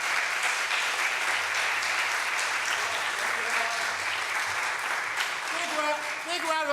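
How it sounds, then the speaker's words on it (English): Dense, sustained applause from a large crowd at a political rally fills the space loudly, with cheering voices mixed in and a whistle or shout rising near the end. "Big round of applause."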